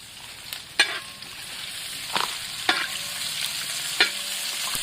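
Sliced onions fry in a pan with curry leaves, a steady sizzle broken by several sharp scrapes and clinks as they are stirred.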